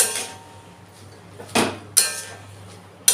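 A metal pot lid set down over cabbage cooking with shrimp, a few sharp clinks and clatters spaced apart over soft kitchen background noise, close by, with no talk.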